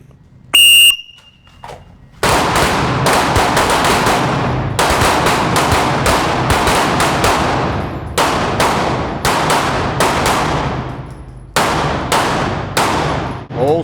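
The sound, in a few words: handgun shots in a shooting class drill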